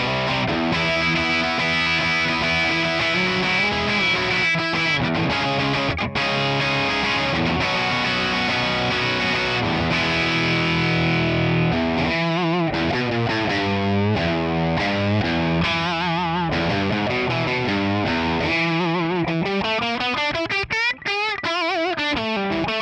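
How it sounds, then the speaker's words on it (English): An electric guitar plays crunchy distorted chords through a Tonex ONE capture of an Orange amp with no reverb, a dense sustained wall of overdrive shifting through chord changes, dry and continuous with short gaps. "let's check it out without any reverb, and let's do some crunchy chords"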